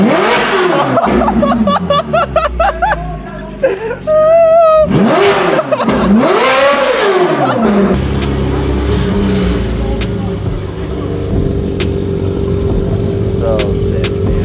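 A Porsche sports car's exhaust revs hard in several loud, rising and falling bursts up close, then settles into a steady idle rumble.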